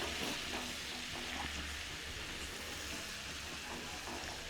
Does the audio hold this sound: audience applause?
no